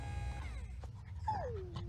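A senior dog at the vet lets out a few soft, high whimpers and yips up close, ending in a long falling whine over a low background hum.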